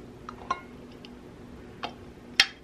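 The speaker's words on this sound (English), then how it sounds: "So now we're just gonna place our new lids on here." New metal lids set onto glass canning jars of beef and turkey broth: a few faint, sharp clinks spaced apart in a quiet kitchen, with the last tap the brightest.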